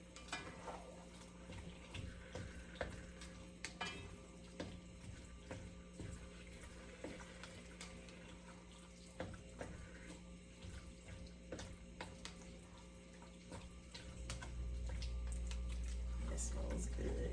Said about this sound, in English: And so it's starting to sizzle. You might be able to hear it.